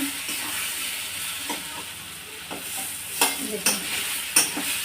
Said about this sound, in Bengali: এরকমভাবে এখন আমি নাড়তে থাকবো